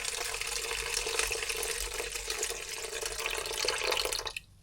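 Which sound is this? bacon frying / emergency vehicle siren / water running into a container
water running into a container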